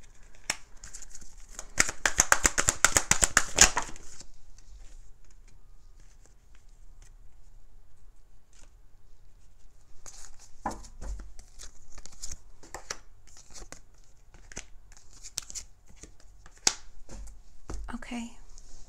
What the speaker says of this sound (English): just bear with me as I get your cards out.